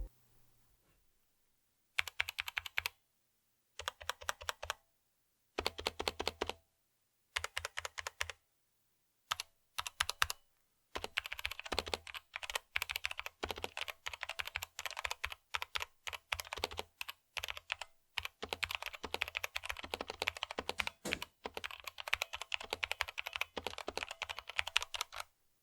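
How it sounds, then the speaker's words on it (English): Tecware Phantom mechanical keyboard with brown switches typed on alone and close, first in short separated bursts of keystrokes, then in a long continuous run of rapid clacking. "Now I'm going to be doing a sound test of the brown switches"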